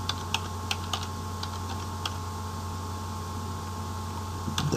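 Computer keyboard keys are typed while entering a line of Visual Basic code, a few sparse, soft clicks spread out over a steady background hum, with no talking.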